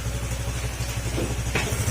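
A car engine idles after a throttle body cleaning, a steady low rumble with a pulsing beat, running alone at moderate loudness, with a brief rise near the end.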